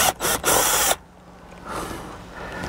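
A power driver buzzes in quick bursts while backing a screw out of a 2006 Subaru Tribeca sun visor, followed by a quieter mechanical whir.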